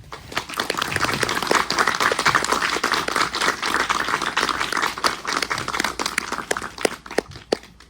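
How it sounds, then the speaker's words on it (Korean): A cinema audience at an independent film festival Q&A at Apgujeong CGV claps for the director and actors as they come out. The dense, steady applause lasts several seconds before thinning out near the end. "감독님과 배우들 모실 테니까 큰 박수 한번 부탁드리겠습니다"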